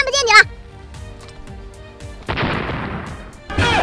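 A grenade explodes in a comedy skit about playing a game, a sudden loud noisy blast that rumbles and fades, preceded by a voice and faint background game sounds.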